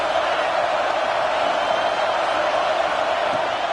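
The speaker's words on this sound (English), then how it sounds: "this crowd is turning it up a notch" Loud, steady roar of an American football stadium crowd at a Notre Dame versus Iowa game, a dense wall of cheering holding at one level throughout with no breaks.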